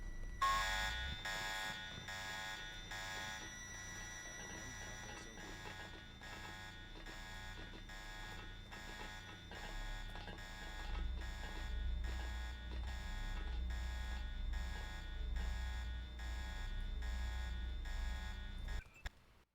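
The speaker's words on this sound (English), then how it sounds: "the sound of the alarm going off is super loud" Loud, steady electronic alarm in the video game Deus Ex, a sustained buzzing tone that pulses rapidly and continuously, with a low rumbling hum building beneath it before cutting off abruptly.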